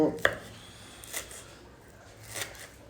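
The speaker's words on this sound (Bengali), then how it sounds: "সেগুলোকে কুচি করে নিচ্ছি ধনে পাতা কাঁচা লঙ্কা পেঁয়াজ রসুন একটু আদাও দেব" A kitchen knife chops coriander, green chilli, onion, garlic and ginger on a board, a few separate close cuts with a sharp one at the start and quieter strokes after.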